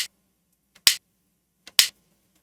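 Two positive COVID test cassettes tapped together form a homemade video game's menu-select effect, two sharp plastic clicks about a second apart, each preceded by a faint tick, close and dry in silence.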